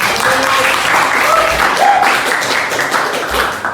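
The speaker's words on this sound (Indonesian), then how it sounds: "Tepuk tangan dulu semua" Steady audience applause fills a classroom-style workshop session, a dense even wash of many hands clapping close by and fairly loud, with a faint voice or two briefly audible beneath it.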